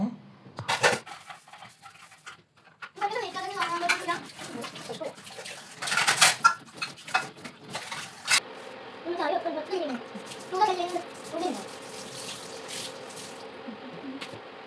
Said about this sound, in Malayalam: ഞാൻ പാത്രങ്ങളൊക്കെ കഴുകാണ്